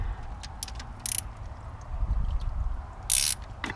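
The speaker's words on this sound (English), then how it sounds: "What you're going to do is you're going to do these two little bolts here." A ratchet wrench loosening thermostat housing bolts on a car, with quick clicking bursts and two louder ratcheting runs over low background rumble, close by.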